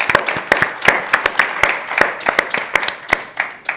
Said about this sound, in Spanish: pido un aplauso para Mar Herrera